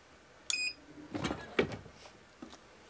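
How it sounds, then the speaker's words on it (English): A heat press timer beeps a few times while a T-shirt is being pressed, short electronic tones amid quiet handling clicks and rustles at close range. "Once the timer beeps"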